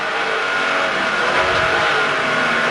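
A Porsche race car engine at full throttle on track during a 1994 sports and GT race in Wellington, a loud, steady, close roar with little variation and no talk.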